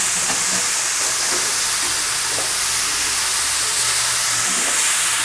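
Amaranth greens stirred and sautéed in a pan for Kerala-style cheera thoran give a steady hissing sizzle with faint scraping stirs throughout, close and continuous with no talking.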